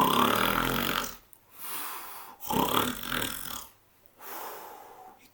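A giant snoring in a children's story of Jack and the Beanstalk, imitated by a voice: long, loud, rasping snores with breathy snorts, three drawn-out cycles separated by quiet pauses, heard alone.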